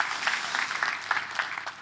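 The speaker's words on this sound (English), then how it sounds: "Give yourself a round of applause." Applause from a conference audience at an Excel training session, a dense patter of many hands clapping steadily for a couple of seconds, fairly close and without voices over it.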